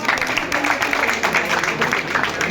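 A crowd at a Congress election rally in Subhash Mohalla applauds to welcome a candidate, steady dense clapping that fills the whole moment at a loud level.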